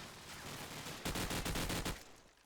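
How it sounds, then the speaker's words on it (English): Gunfire in a Call of Duty 4 match at a competitive LAN event: rapid automatic sprays of shots, a busy burst in the middle stretch, over background game noise, with no talking. "And now Pack just trying to make those sprays work."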